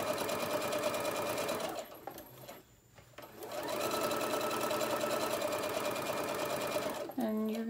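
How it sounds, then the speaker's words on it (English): A sewing machine stitches down a folded fabric hem on a lunch tote bag, producing a steady close mechanical whir that stops briefly, then resumes for several seconds, with a voice talking over it. "So I'm going to go ahead and get that sewed down by putting that extra little quarter of an inch, folding it under, then folding it down."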